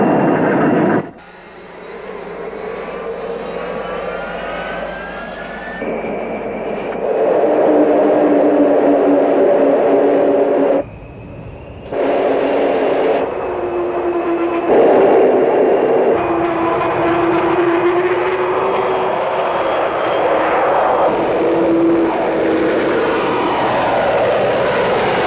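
A V-Force jet bomber roars steadily down the runway on its takeoff run, loud and sustained with rising, shifting whines. The roar drops out briefly twice before returning at full strength.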